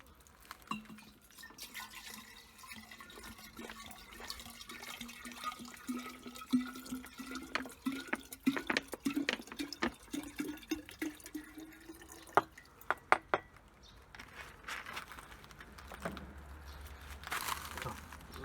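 Water pours in a quiet trickle with a rising tone as a container fills while mixing homemade carp bait, accompanied by faint drips, clinks and crinkling.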